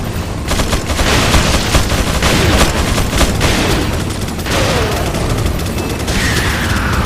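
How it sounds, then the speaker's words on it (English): Video game gunfire in Resident Evil 4 comes as dense, continuous volleys of shots and bursts, loud and chaotic, with booming impacts layered throughout. "A lot of gunfire."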